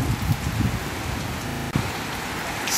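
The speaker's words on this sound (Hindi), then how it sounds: "क्या खतरनाक बारिश आ रही है" Heavy rain pours down in a steady, dense hiss, loud and continuous with no voices over it.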